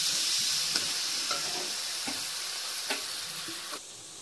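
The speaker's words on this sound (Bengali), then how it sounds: "আমাদের আদা রসুনটা কষা হয়ে গেছে, এবার এর মধ্যে অল্প করে জল দেবেন।" Water is poured into a pan of frying ginger-garlic paste, which sizzles steadily with soft scraping stirs and light clicks throughout. The hiss drops off sharply right at the end.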